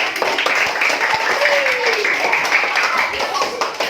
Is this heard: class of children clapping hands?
yes